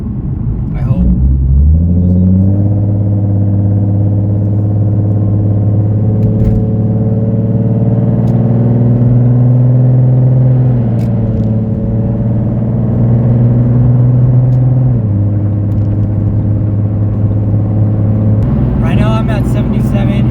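A 2012 Ford Mustang with a 3.7 V6 and Roush mufflers cruising on the freeway, a steady low exhaust drone and cabin rumble that swells briefly as the pitch shifts, heard from inside the car throughout.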